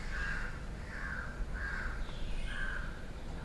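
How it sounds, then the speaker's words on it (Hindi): Several birds call outside in Mumbai after rain, harsh crow-like caws repeating at a moderate distance over a low, steady outdoor hum. "यदि आप सुनोगे ध्यान से तो आपको बहुत सारा आवाज सुनाई देगा पक्षियों का"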